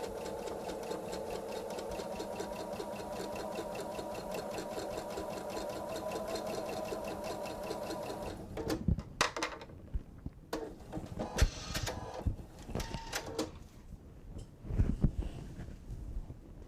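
A sewing machine stitches a bench pillow in a fast, steady whirr for about eight seconds. It then stops, leaving handling, fabric rustles and a few short bursts of stitching.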